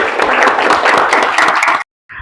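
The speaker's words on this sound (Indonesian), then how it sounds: "Berikan tepuk tangan" Classroom audience applause during a microteaching lesson, a loud burst of many hands clapping for nearly two seconds, then a short pause and a brief resumed patter.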